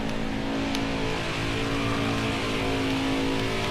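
A race car engine drones steadily in a Miami racing game, a constant sustained whine at a fairly loud level, no voices heard.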